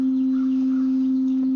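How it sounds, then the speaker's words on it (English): A pure, steady sine wave tone from an oscillator in the Cardinal synth holds a single unwavering pitch with no variation, alone and clean. "we can just grab a sine wave"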